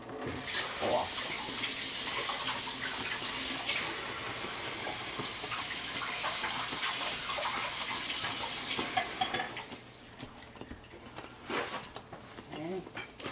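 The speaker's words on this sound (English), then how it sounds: "now let me wash my hands. All that stuff off." Running tap water pours steadily and loudly in a kitchen while hands are washed under it, a constant broadband rush for about nine seconds before it cuts off, leaving quieter cooking clatter and faint background sounds.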